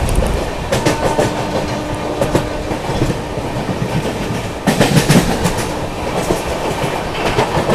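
Seemanchal Express (Jogbani to Anand Vihar) runs through Etawah Junction without stopping, its wheels clattering loudly and rhythmically over rail joints close by as the coaches rumble past, the clickety-clack continuous and nothing else heard.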